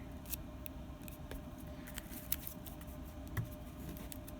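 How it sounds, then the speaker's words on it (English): A deck of cards is shuffled during a tabletop game, giving quiet, scattered soft clicks and riffles over a low background hum, with no voices. "I'm going to shuffle the deck"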